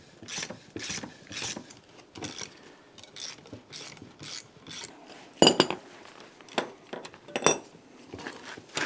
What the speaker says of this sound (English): So now I can release the tension on the spring compressors.